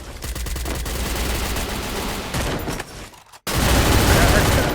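Dense automatic gunfire bursts from a Free Fire match, loud and close. The shots come in rapid, overlapping volleys, break off briefly into near silence, then resume even louder.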